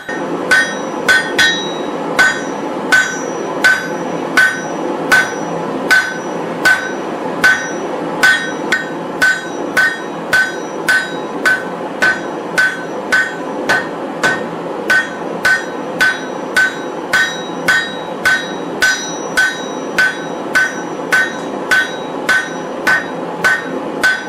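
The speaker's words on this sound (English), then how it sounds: "sometimes it's fun to just go at it with the hammer" Steady, rhythmic hammer blows ring out on steel while forging a Japanese Damascus knife, dozens of sharp evenly spaced strikes at close range with a bright metallic ring after each hit.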